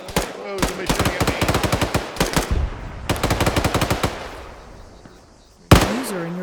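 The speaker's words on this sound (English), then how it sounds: "Oh, somebody's shooting at" Bursts of rapid automatic gunfire ring out in a military realism shooter game, several long volleys of sharp shots with short gaps between them, loud and close, aimed at the player.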